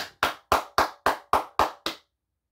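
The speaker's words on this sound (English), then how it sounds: "Everybody clap it up now." Eight sharp, evenly spaced hand claps in a steady rhythm, close and loud, then silence.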